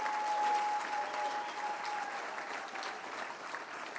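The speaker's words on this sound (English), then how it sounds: "Let's give applause for Harmeet Dillon, by the way." Applause from a large audience, a dense wash of clapping that swells early, then eases slightly while continuing throughout.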